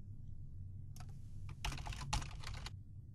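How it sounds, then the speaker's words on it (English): Short burst of typing on a computer keyboard, a few quiet clicks and then a quick cluster of keystrokes over a low steady hum, with no one talking. "I'll just type it in this time."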